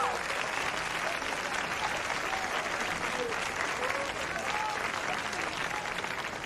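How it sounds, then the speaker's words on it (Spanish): A crowd of young spectators applauds two competitors after a contest, a dense, even wash of clapping that holds steady throughout, with faint voices and cheers mixed into the background. "Un fuerte aplauso para los dos competidores."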